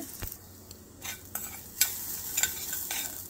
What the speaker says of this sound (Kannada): ಇದ್ಲೇ ತೆಂಗಿನಕಾಯಿ ಹಾಕಿದ್ದೀನಿ, ಒಂಚೂರು ರೋಸ್ಟ್ ಮಾಡ್ತೀನಿ